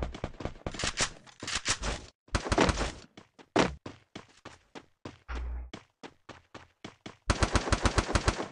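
Gunfire in a shooter video game, with repeated bursts of automatic fire and single cracking shots, loud and close, coming in uneven clusters separated by short pauses and ending in a rapid burst.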